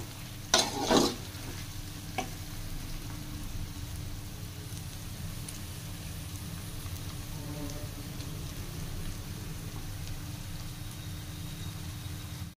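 Chicken fries in a pan with a steady, close sizzle, opening with a brief burst of clattering stirring and a later single clink, then settling into an even, unbroken hiss.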